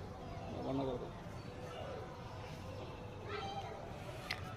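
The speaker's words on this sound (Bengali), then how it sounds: "আজকে দেখো কত পায়রা এসছে" Pigeons cooing in a group, low soft calls repeating through the clip with scattered chirps from other birds; a voice and background voices are audible over steady outdoor noise.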